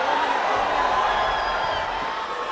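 A big crowd roars and cheers at an MFN mixed martial arts fight, a dense, steady wall of noise close around the listener that holds for the whole moment and eases slightly at the end.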